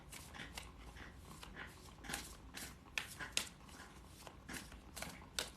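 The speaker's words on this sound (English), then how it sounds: "He's over here chewing on a chew toy now" A dog gnaws on a chew toy indoors, producing irregular close crunching and scraping bites in short bursts, fairly faint overall with no talking.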